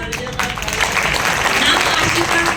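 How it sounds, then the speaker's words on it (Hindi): Audience applause for a woman being honoured at a women's achievement event, a steady dense wash of clapping that holds for the whole stretch with no pause. "तो एक बार जबरदस्त तालियां जाए बहन की।"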